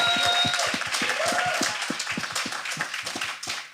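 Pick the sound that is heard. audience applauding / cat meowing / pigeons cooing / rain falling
audience applauding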